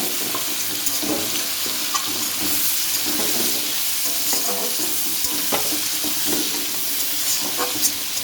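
Radish and potato pieces frying in oil in a pan, a steady close sizzle with occasional stirring scrapes and clinks throughout, no voices.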